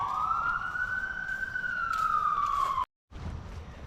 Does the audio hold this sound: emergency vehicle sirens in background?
yes